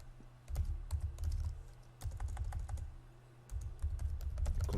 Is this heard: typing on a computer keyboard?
yes